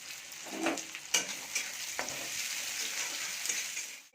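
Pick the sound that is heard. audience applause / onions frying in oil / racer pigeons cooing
onions frying in oil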